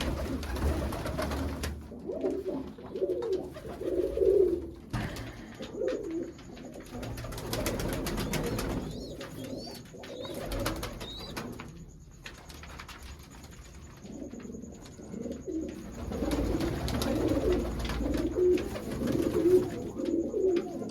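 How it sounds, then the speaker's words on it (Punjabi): Pedigree pigeons coo steadily and close by in repeated soft, throaty rolls, with occasional faint chirps from other birds and no talking. "ਕਬੂਤਰ ਆ ਗਏ ਜੀ"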